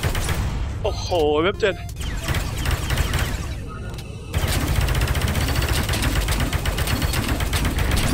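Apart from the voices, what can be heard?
gunfire in VR space pirate mixed reality game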